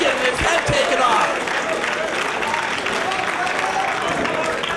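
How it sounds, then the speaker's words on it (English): Wrestling crowd noise fills an arena, a dense roar of cheering and applause with a couple of low thumps early, sustained and fairly loud throughout with some voices mixed in. "Boy, this crowd is just electric"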